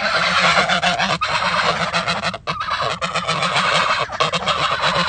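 Two young geese hatched under hens honk almost without pause, loud and close, their calls overlapping into a busy, unbroken chorus.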